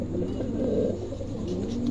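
A pair of Pomeranian pouter pigeons coo steadily and close by, their low, rolling calls overlapping continuously for a couple of seconds with no talking.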